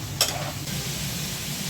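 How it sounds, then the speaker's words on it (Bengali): Tengra fish sizzles steadily in spice paste in a hot pan, with a short sharp burst of crackling near the start as the fish is stirred. "এখন ট্যাংরা মাছটা দিয়ে দিচ্ছি। ট্যাংরা মাছটাও আমি কষিয়ে উঠিয়ে নিব"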